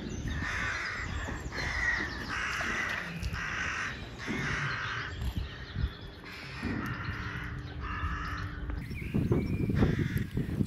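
Crows cawing while feeding in the yard of a dairy farm, a steady series of repeated harsh caws at moderate distance, continuing for several seconds without talk.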